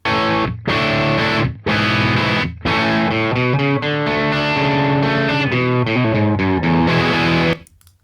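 A distorted electric guitar, recorded with a single mic and with early reflections and reverb turned down, plays chords and melodic lines with only a light ambient tail, strong and continuous, pausing briefly twice before fading at the end.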